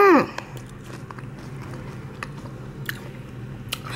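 Biting into a baked Kit Kat, a crisp bite at the start followed by soft, close chewing and small crunches for several seconds.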